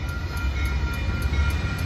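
A Metra commuter train hauled by an MP36PH-3C diesel locomotive rumbles past steadily, with a heavy low-end drone and a faint repeating high ticking, no voices.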